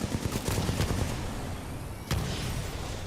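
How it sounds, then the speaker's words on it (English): Rapid bursts of gunfire in the video game Titanfall crackle continuously, with a sharper explosive boom about two-thirds through, all loud and dense. "If you don't back up off me with them explosions."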